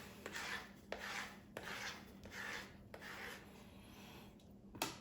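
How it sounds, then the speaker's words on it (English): Soft rhythmic scraping as a dough scraper rasps butter off a rolling pin while making puff pastry, about five quiet strokes followed by a sharper tap at the end. "you scrape your roller pin like this"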